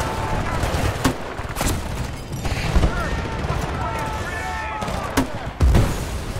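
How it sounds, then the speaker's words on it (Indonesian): In Battlefield Bad Company 2, on a Himalayan mountain cold war mission, a grenade launcher fires a few heavy, booming shots amid loud, continuous battle noise and scattered gunfire, with voices talking underneath. "suruh nembak kita pakai granat launcher"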